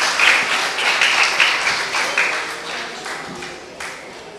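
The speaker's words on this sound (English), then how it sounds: "Could you please give him an applause?" An audience at a primary school end-of-year ceremony applauds for the vote of thanks, a crowd of steady claps, loud at first and tapering off.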